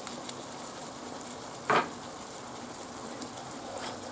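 Tomato and sugar hitting a hot pan of chorizo give a steady, soft frying sizzle throughout, with one brief louder hiss burst partway as ingredients land.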